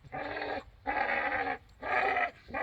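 A pit bull puppy, about five months old, growls in three long, loud, rough bursts with short gaps between them, close to the listener and with no talk over it.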